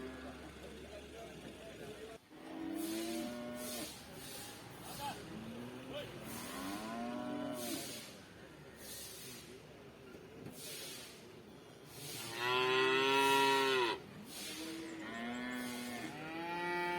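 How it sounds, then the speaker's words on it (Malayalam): Cattle, bulls and cows tethered at a livestock market, moo repeatedly, several long drawn-out calls close by, one especially loud and sustained, with talk heard between the calls. "ഇവിടെയൊക്കെ നല്ല സൈസുള്ള കാളന്മാരെയും പശുക്കളെയൊക്കെ കെട്ടിയിട്ടുണ്ട്."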